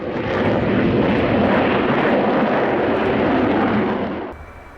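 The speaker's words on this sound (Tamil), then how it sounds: "பிரான்சின் அதிநவீன போர் விமானம் ராஃபால் இரட்டை என்ஜின்களை கொண்ட இந்த விமானம் அணு ஆயுதங்களை ஏவும் திறன் கொண்டது" A Rafale twin-engine fighter jet at the Bangalore air show, a loud, broad, sustained engine roar close by that holds steady and then fades away sharply at the end, with no voices.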